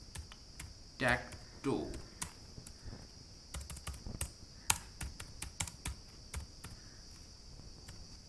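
Quiet clicking of a computer keyboard as Python code for a pygame tic-tac-toe game is typed, irregular bursts of keystrokes close by, with someone speaking briefly over them.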